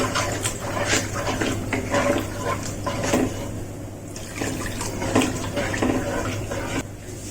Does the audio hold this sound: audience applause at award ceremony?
no